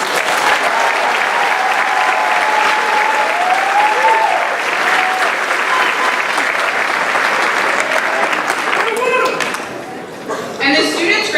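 A high school graduation audience applauds as high honors students stand, sustained dense clapping from a large crowd filling the whole stretch, with some voices and cheers mixed in near the end.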